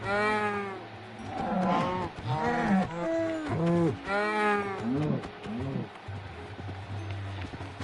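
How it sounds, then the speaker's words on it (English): Cows in a farming video game, moo after moo overlapping in quick succession, clear and fairly loud over a low steady hum, with the calls tapering off toward the end. "Got plenty of cows."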